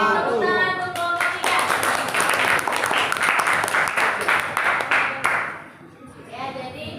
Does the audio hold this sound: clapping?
yes